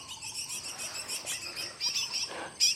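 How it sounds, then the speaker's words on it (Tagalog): Birds chirp and sing repeatedly in the mountains, high bright calls over a steady insect drone, with a louder, closer chirp near the end and no voices. "Ang saya ng mga ibon."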